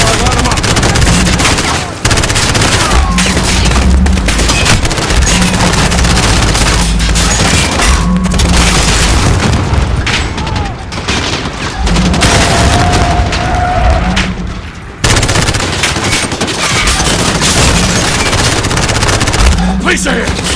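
Sustained gunfire and booming explosions from a Call of Duty: Modern Warfare campaign battle, loud and continuous with rapid machine-gun bursts, brief gaps near two and fifteen seconds, and voices talking intermittently beneath the fighting.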